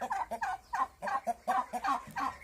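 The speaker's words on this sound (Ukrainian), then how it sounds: "вам показую своїх індиків" A group of turkeys gobbles in rapid, overlapping bursts, a steady stream of warbling calls close by with no talking.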